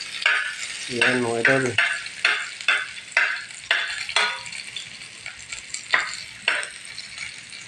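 Onions saute in a hot pan, sizzling steadily while a utensil scrapes and stirs in regular strokes. A voice speaks briefly near the start.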